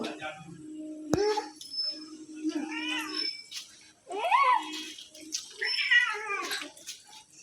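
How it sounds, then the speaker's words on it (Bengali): Repeated drawn-out cat meows, some whiny and rising, mixed with a voice talking nearby and a sharp knock early on. "এইখানে আছে ম্যাওটা। ম্যাও কই"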